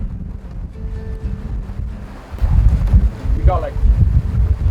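Wind gusting across the microphone while sailing a Seawind 1600 catamaran, with loud buffeting and a strengthening rush over the water as a person speaks briefly.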